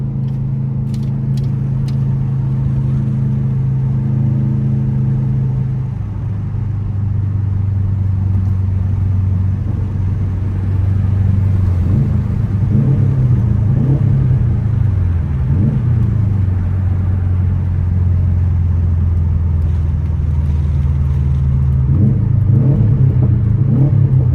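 A Subaru WRX STI engine with a manual gearbox hums and rumbles while driving, dropping into a lower drone then rising with revs and gear changes, loud and close throughout.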